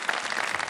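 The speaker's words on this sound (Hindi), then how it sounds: "तालियां बजा दें" Brief applause on a cooking show, a quick dense patter of clapping hands heard alone for under a second.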